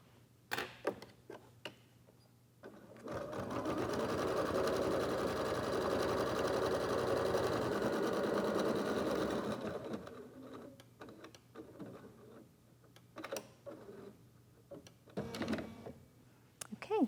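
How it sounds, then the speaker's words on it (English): A computerized embroidery sewing machine stitches a final tack-down sequence on an in-the-hoop USB fob, a steady mechanical whirring hum lasting about six seconds, framed by clicks and small handling noises before and after. "we'll sew our final stitch sequence, which will tack all the fabrics together and complete the stitching"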